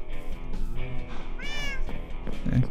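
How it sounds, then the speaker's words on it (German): Cats meow repeatedly in the video game Minecraft, several short rising and falling cries, one clear and prominent in the middle, with faint game ambience beneath. "Katzen."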